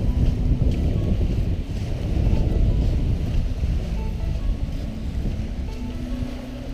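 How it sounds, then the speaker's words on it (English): Water flowing in over the sand of a northern lake beach in Lady Evelyn-Smoothwater Provincial Park, a steady close wash of lapping and surf mixed with wind buffeting the microphone, continuous with no voices. "The water flows in over here a little bit."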